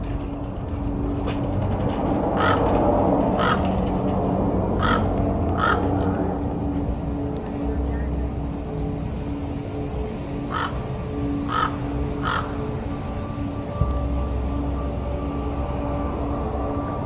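Raven caws in short repeated bursts, two or three at a time, heard at a moderate distance over a steady low rumble like a passing train.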